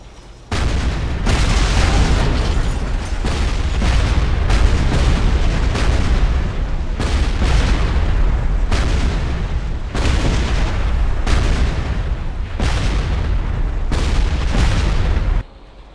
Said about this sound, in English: the sound of the artillery seems to be cut off at the end